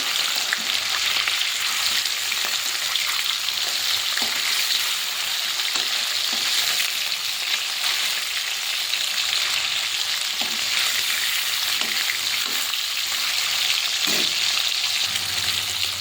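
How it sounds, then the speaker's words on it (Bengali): Katla fish pieces fry in hot oil in a kadai, producing a dense, steady sizzle with occasional crackles and spatters, close and continuous, with no talking. "তেলটা গরম হয়ে গেছে, এবারে মাছগুলোকে ভেজে নেব"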